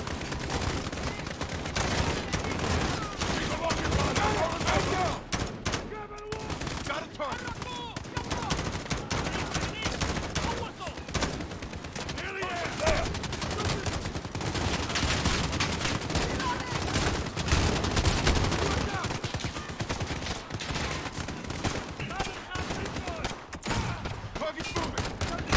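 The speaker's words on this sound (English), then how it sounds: "Gunfire! Watch your flanks!" Dense, continuous gunfire in Call of Duty: Modern Warfare on PC, rapid bursts and booms layered over one another with occasional voices mixed in.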